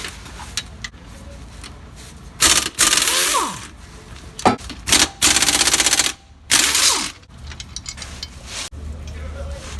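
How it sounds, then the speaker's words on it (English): A socket wrench, likely pneumatic or electric, removes two 17mm bolts from a Nissan Titan transmission mount, giving loud rattling bursts in several stop-start runs close to the listener. "all we have to do is remove 2 bolts with their 17mm socket"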